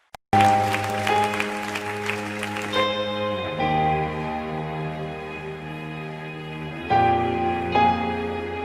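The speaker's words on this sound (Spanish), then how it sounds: "Ponte de pie y le ofreces un aplauso al Señor." A church congregation claps loudly for the first few seconds over sustained keyboard or organ chords; the applause then fades and the music carries on alone, swelling again near the end.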